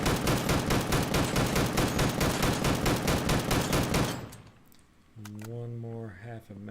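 Rapid automatic gunfire aimed at a turret in the survival shooter Deadside: around sixteen evenly spaced shots in a fast, loud burst for about four seconds, then it stops and a voice talks.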